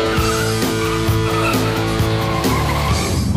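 A 2006 Pontiac Pursuit SE brakes hard and its tires skid and squeal loudly and continuously for several seconds, tailing off at the end, with no talk over it.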